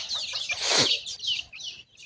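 Desi chickens on a poultry farm give a short burst of clucking and a squawk, close and fairly loud, followed by softer scattered calls.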